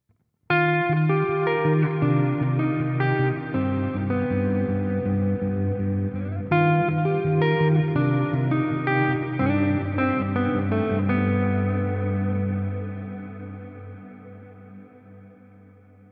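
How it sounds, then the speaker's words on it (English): A clean electric guitar run through the Plex Verb on an Axe-Fx III with the mix around 40 percent: chords and plucked notes bloom into a wide, shimmering ambient reverb that washes on and slowly fades into a long tail. "essentially you can get a great ambient reverb straight away if you just turn the mix up on this to around"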